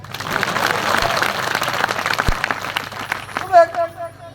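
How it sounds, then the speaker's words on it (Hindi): An audience at a poetry recital at a temple claps in a lively burst of applause, with a speaking voice and crowd noise over and after it. "हाँ, ताली बजाओ"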